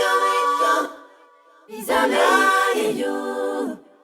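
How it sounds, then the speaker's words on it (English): Sung vocal phrases with a stereo delay effect, echoes trailing after each line; two bursts separated by a brief dip, fairly loud. "For my fourth bus, I'm gonna put on some stereo delay"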